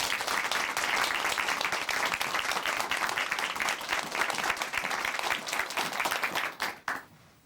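Warm applause from a church audience in Chuncheon greets a speaker coming to the stage, dense steady clapping that swells, holds for several seconds, then tapers off near the end.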